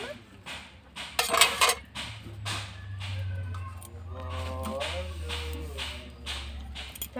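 A metal spoon scrapes and clinks against a cooking pot as meat and potato curry is stirred, a few sharp clatters early on followed by softer scraping under a steady hum, with a voice speaking in between.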